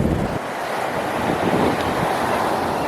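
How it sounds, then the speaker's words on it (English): Ocean waves roll onto a beach after sunset in a continuous, broad wash of surf, steady and fairly loud, with some wind buffeting the microphone. "I'm enjoying watching the waves roll off the rocks"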